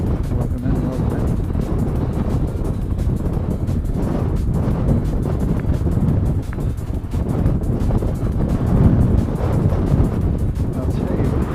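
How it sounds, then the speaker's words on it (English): Strong gusty wind batters the microphone in a loud, constant rumble with surging buffets, drowning out everything else at an airport viewing spot in Christchurch. "it's still pretty windy. Still very, very gusty."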